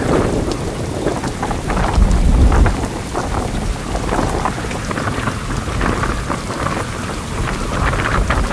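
Heavy rain pours steadily at Pangumbahan Beach with gusting wind roaring across the microphone, a dense, loud wash of sound with a deep rumble near the start.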